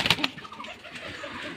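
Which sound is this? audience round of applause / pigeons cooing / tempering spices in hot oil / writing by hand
pigeons cooing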